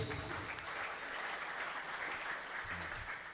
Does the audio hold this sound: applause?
yes